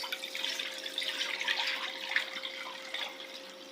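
Water pours in a steady splashing stream for a few seconds, moderately close, tapering slightly at the end, with no voices.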